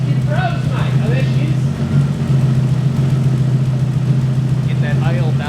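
A custom Toyota Supra engine idling right after its first start: a loud, steady, deep rumble holds throughout, with voices talking over it.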